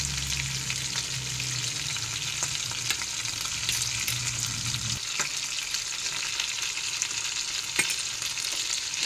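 A ginger, garlic, onion and green chilli paste fries with mutton in a pan, giving a steady close sizzle with occasional stirring clicks. A low rumble in the first half drops away.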